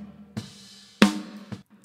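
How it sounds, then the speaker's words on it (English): An unprocessed close-miked snare drum top from a rock mix rings out in three isolated hits, the middle one loudest, each with a short ringing body and brief decay in a dry setting. "So the original snare top sounded like this."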